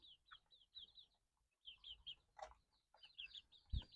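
Chickens cluck in short repeated bursts at a farm where ducks and chickens are kept, faint and somewhat distant, with a few scattered knocks and rustles between the calls.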